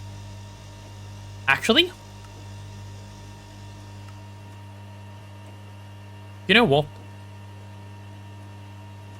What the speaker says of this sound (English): I need to just mute these sounds myself. Vacuum freezer, blast furnace, go away.